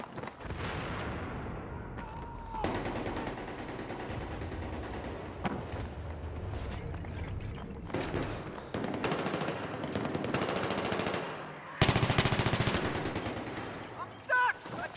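Rapid automatic gunfire and scattered shots from a Battlefield match, loud and near, with bursts starting and stopping across the clip and a sharp heavy volley near the end, mixed with faint distant firing.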